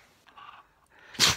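One sharp sneeze bursts out close by after a brief quiet snuffling breath, loud and abrupt near the end of a short indoor moment.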